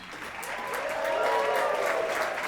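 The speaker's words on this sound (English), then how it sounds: "I really appreciate that applause" A comedy show audience applauds a comedian taking the stage, steady clapping that swells and holds at full strength throughout, with no talk over it.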